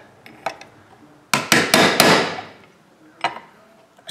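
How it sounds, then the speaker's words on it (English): Hammer blows driving a bearing race into the crankcase of a Stihl 041 chainsaw: a few light taps, then three sharp ringing metallic strikes close together, followed by a couple more taps, all close and loud. "I'm beating on the outside of the race, it's not going to hurt nothing."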